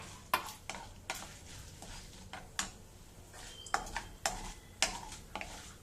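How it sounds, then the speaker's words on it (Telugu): Urad dal, mustard seeds and curry leaves sizzle in hot oil for a cluster-bean kootu tempering, with sharp popping crackles and stirring scrapes at irregular intervals over a steady frying hiss, close and moderately loud. "ఒక 1/2 స్పూను ఆవాలు వేసి ఇలా పోపు వేసుకుని దీంట్లో కొంచెం కరివేపాకు"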